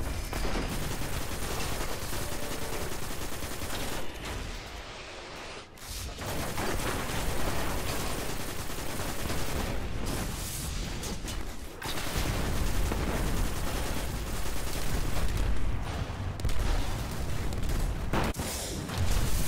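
Dense, continuous gunfire and explosions in the Destiny video game during the Cerberus Vae III strike on hard mode, a steady loud barrage of shots and booms running throughout with no pauses.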